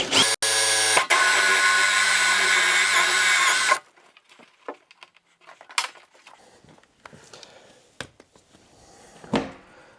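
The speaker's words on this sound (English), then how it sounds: "I'm going to drill it right here." A power drill whines loudly and steadily for a few seconds drilling a hole for a cable connection fitting on a well reservoir, then stops, followed by faint clicks and handling noises.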